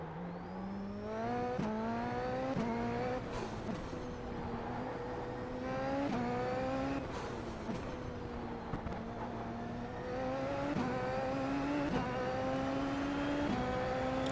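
A race car engine in the iRacing sim at Circuit de Ledenon revs hard and steadily, with repeated rising pitch sweeps as it accelerates through gears, loud and continuous without any talk.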